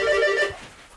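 Apartment door entry bell ringing, an electronic tone with several harmonic bands, moderately loud for under half a second and then fading into room quiet.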